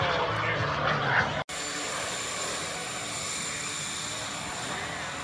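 A light jet flies at the 2019 Grand Junction Airshow, a steady, broad engine roar with a faint high whine that holds throughout after a brief cut near the start; talk is faintly present beneath.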